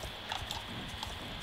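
Horse hooves clip-clop in the Star Stable horse-riding video game, a brief run of soft, evenly spaced footfalls over a steady background hum.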